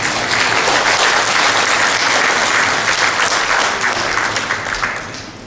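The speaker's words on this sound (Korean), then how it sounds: "심찬 박수로 맞이해 주시기 바랍니다." A crowd applauds steadily, the dense clapping holding strong before gradually tapering off near the end.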